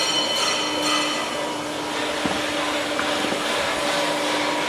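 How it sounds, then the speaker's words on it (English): A shaping machine cutting keyways into metal gives a continuous mechanical whir and hum with a faint tick or two, steady and fairly loud throughout. "But this is shaping machine that we used to cut almost keyways into things."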